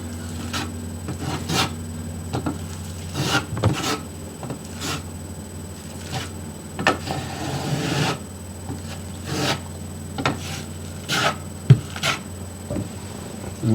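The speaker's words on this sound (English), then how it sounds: "You want to apply it so you hear the teeth grinding on the wall." Small notched trowel spreading tile mastic adhesive across a wall for a backsplash, a run of scraping, rasping strokes with brief gritty bursts at an irregular rhythm, close and moderately loud with no talking.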